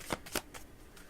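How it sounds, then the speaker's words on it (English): A deck of tarot cards is shuffled, giving a few quick riffling bursts up close but very quietly, with no one speaking. "I do want to shuffle them a little bit more"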